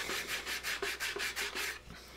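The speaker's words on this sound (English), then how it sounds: "do some final sanding on it" Rhythmic back-and-forth final sanding on a walnut bench, about eight even rasping strokes in quick succession, close up, with no talking.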